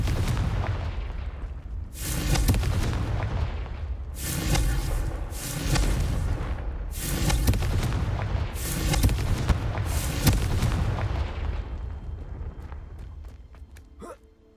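Confringo fire spell blasts in the Hogwarts Legacy video game on PS5, a run of about six heavy booming bursts at a steady pace over a low rumbling backdrop, fading at the end.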